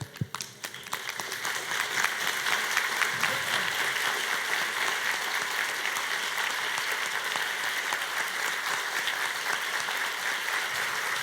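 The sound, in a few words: audience applause after the talk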